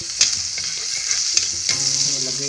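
Butter sizzles and crackles steadily in a frying pan, a close hissing bed with a few sharp pops and light stirring scrapes.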